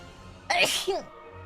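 A voice produces a single loud, breathy sneeze-like burst, a short, sharp imitation in a spoken lore summary, with quiet surroundings before and after.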